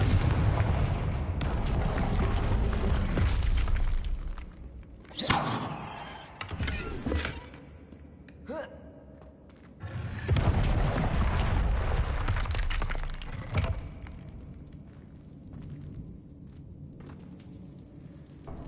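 Confringo spell blasts in Hogwarts Legacy go off as loud booming explosions, several in a row, with crackling and shattering debris between bursts.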